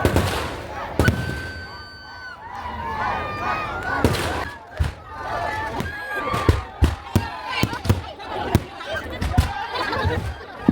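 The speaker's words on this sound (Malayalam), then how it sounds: "ലാസ്റ്റ് ഒരു വെടിക്കെട്ടും കഴിഞ്ഞ് പരിപാടി കളറായി" Festival fireworks burst at Osanpadi fest, with sharp cracking bangs coming faster toward the end under crowd noise and voices.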